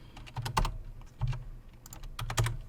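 Bursts of quick keystrokes on a computer keyboard in a Windows setup, close and crisp, coming in three short clusters with brief pauses between, no voices over them.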